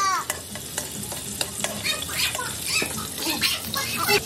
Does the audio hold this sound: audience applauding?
no